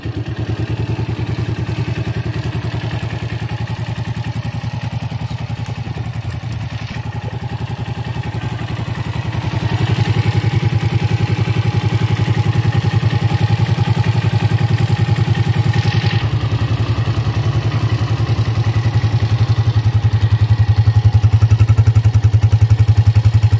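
A 2021 Sanya 150cc motorcycle engine runs close by with a steady low idle, its pitch and loudness rising in a couple of steps as it's revved.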